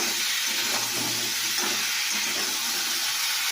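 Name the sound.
fish frying in a pan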